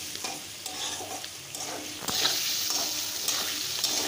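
Carrots and potatoes are tossed and mixed in a frying pan over the heat, with a continuous sizzle and repeated scraping strokes of the spoon. The sizzle grows louder partway through, close-up and without voices.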